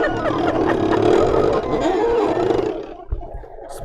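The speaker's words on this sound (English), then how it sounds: "I love the sound of cameos" A Silhouette Cameo cutting machine runs with a loud, continuous mechanical whir and grinding motor drone, shifting in pitch as the carriage moves, then settling into a quieter stretch with a few soft knocks near the end.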